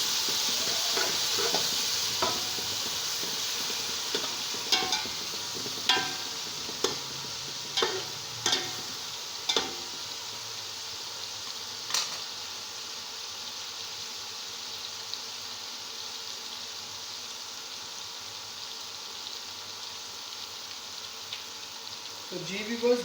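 Ginger garlic paste sizzles in hot oil for beef nihari, a steady close hiss broken by a string of sharp scraping clicks from a spoon stirring the pan.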